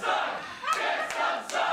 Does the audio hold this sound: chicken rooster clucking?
no